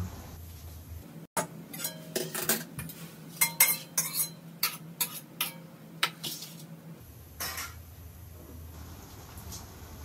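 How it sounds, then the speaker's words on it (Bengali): Fried eggs are tipped and scraped from a pan onto a plate while making egg chowmein. A run of sharp metallic scrapes and clinks comes close and fairly soft over a low background hum. "ডিমগুলো ভাজা হয়ে গেছে, একটা প্লেটে ঢেলে নিল।"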